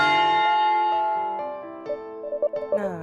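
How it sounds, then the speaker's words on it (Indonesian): A school break bell in an Indonesian bullying-themed video game sounds as a loud, sustained ringing chime, with sustained tones fading and then short repeated pulses near the end. "Nah, itu bel istirahat."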